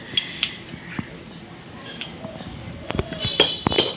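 Teaspoons of lemon juice go into a glass for a summer lemon drink, with a few sharp, bright clinks of spoon against glass, scattered at first and then clustering more quickly toward the end.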